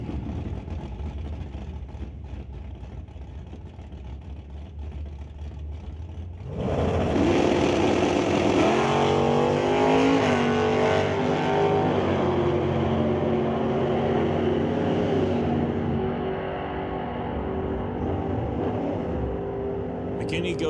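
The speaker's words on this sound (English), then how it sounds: "Racing Rick McKinney, making his first appearance at the Titanium Strip this afternoon." Drag race cars at a strip, low idling rumble then a sudden loud launch into sustained roaring acceleration that slowly fades, with an announcer talking over it.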